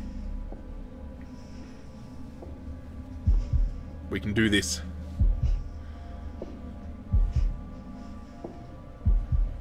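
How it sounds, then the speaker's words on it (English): Low, thumping heartbeat from The Dark Pictures: The Devil in Me beats in a steady rhythm under a game hum, while someone speaks briefly over it. "Gotta press in time with the heartbeat."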